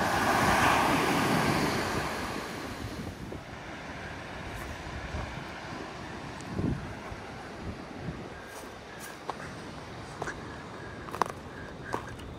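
Ocean waves break and wash up a beach at Murramarang National Park on the NSW South Coast, loudest at first, then easing into a steady surf roar with gusts of wind buffeting the microphone.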